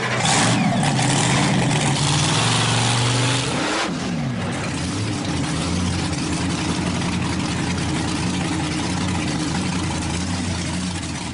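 A car fitted with oversized monster wheels roars loudly and close by, its engine revving and rising in pitch early on and then settling into a steady heavy drone, with no voices over it.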